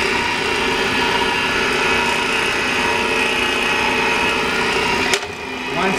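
A two-speed 12-inch mitre saw runs on one speed with a loud, steady motor whine close by, until a sharp jolt near the end changes the tone.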